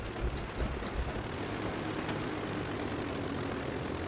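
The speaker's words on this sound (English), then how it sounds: "we'll start the rear engine as well" A simulated Dornier Do J Wal flying boat in Microsoft Flight Simulator runs its propeller engines with a steady, moderately loud droning hum as the rear engine starts, the sound continuous and even throughout.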